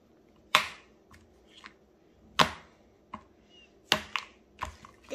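Folded paper ddakji tiles slapped down in a Korean flipping game, giving sharp, close smacks at irregular intervals, four strong hits with a few lighter taps between.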